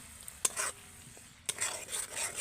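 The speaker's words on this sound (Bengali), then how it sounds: "এবার আমি বেটে রাখা টমেটোটা দিয়ে দেবো দিয়ে একটু নেড়ে দেব" Ground tomato stirred into onion, ginger and garlic paste frying in oil for a prawn malai curry, a soft low sizzle broken by two distinct spatula scrapes against the pan, nobody talking.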